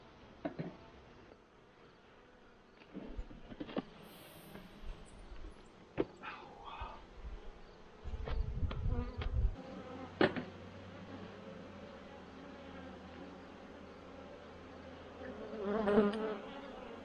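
Honey bees buzz steadily around an open hive box in fall, a soft continuous hum with occasional louder passes close by, joined by some handling knocks and rustling.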